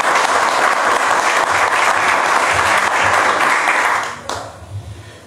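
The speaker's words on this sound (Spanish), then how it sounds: "Un aplauso para ellos," Dense, loud applause from an audience at a book presentation, honoring the ensemble after their opening song, sustained for about four seconds before cutting off abruptly into quieter room noise.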